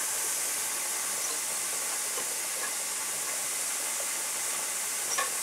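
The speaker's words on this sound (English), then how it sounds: "So it's steam starting to come out of that stem there." Steady hiss of steam escaping a pressure canner's vent stem while turnip greens are canned, a constant close broadband hiss with a brief faint pop near the end.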